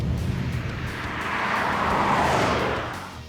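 A 2019 Ford Mustang GT V8 engine roars past, swelling from a rumble to a loud broad rush that peaks and fades over a few seconds.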